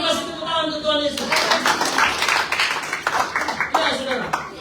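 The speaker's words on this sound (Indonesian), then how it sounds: "Yang senyum kasih tepuk tangan untuk Tuhan Yesus." A church congregation claps together during a sermon, a dense burst of applause that starts suddenly and carries on while a preacher keeps talking over it.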